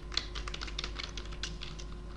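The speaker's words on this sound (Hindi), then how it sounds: "यहाँ पर आपको दूसरे व्यक्ति की ईमेल आईडी टाइप कर देनी है" An email address is typed on a computer keyboard, producing a steady run of quick, light key clicks for about two seconds, close to the microphone over a low hum.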